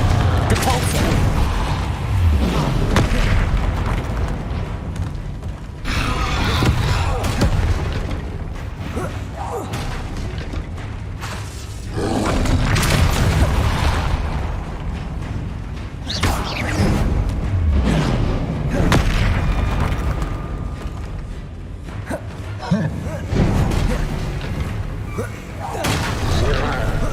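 Spell blasts and explosions in the Hogwarts Legacy video game, a string of heavy booming bursts and crashing impacts that swell and fade in waves over a rumbling, busy game soundtrack with a voice speaking at times.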